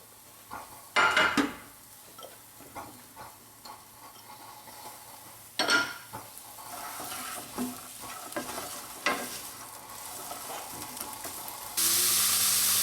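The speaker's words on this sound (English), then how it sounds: "I've got one onion, a couple of carrots and about 4 pieces of bacon, and I just want to saute that off" Onion, carrots and bacon sautéing in a pan, a quiet sizzle broken by several sharp stirring clanks and scrapes, with a louder burst near the end.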